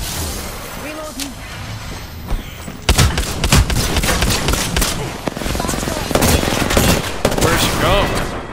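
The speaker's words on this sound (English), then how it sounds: "The Eva 8 is so broken. It goes boop boop boop boop boop boop boop like a freaking SMG" Eva-8 shotgun fire in Apex Legends, a quiet opening with scattered game sounds then sustained loud bursts of rapid shots and impacts, with a voice talking over the action.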